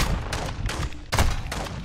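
Video game gunfire from Call of Duty Modern Warfare II, with four or five loud, close bursts of shots coming at an uneven rhythm over a continuous noisy battle backdrop, and no talking.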